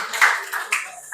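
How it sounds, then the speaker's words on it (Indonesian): A classroom applauds a student group with a brief burst of scattered clapping, a few close claps rising and fading within about a second. "kita berikan sekali lagi tepuk tangan untuk kelompok 3"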